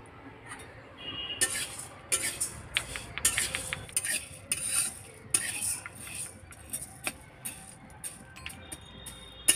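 A spoon stirs moong dal being lightly dry-fried in a pan, giving irregular close clinks and scrapes against the metal with short bursts of rattling grains, no talking.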